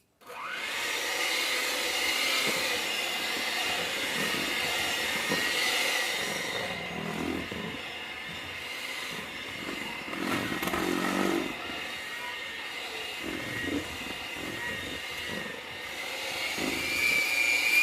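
An electric mixer whirs steadily, beating cream cheese, butter and confectioners' sugar together in a bowl, a continuous close buzzing drone with slight shifts in pitch and intensity as it works through the mixture.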